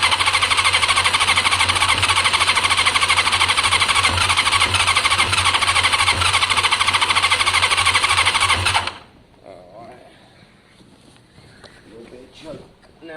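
A Kawasaki ZL600 motorcycle engine with carburettor float trouble runs loud and steady on choke, then abruptly cuts off, leaving near silence with faint rustling.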